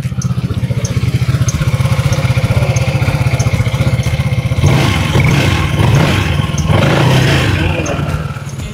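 A Zontes 368G motorcycle engine idles steadily with a rapid, even putter and slight mechanical clatter, loud and close throughout, easing off a little at the end.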